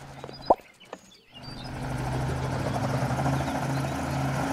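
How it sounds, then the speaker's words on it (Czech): Helicopter in the Mad City video game: a few sharp clicks and a brief lull, then a steady, loud rotor and engine drone that holds to the end. "Helikoptéra."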